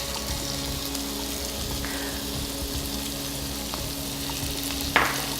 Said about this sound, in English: to that hot pan, when the olive oil is ready, we're going to add a half a cup of finely chopped onion